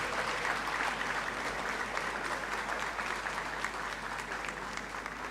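Sustained applause fills the Great Hall at a university congregation ceremony, many hands clapping in an even, continuous roar that stays strong throughout and eases slightly at the end.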